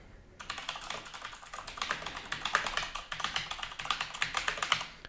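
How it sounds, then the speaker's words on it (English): Rapid clicky mechanical keyboard typing, a steady stream of sharp key clicks at close range with brief pauses, no voices. "These are still very nice key switches. I mean, they're still very clicky."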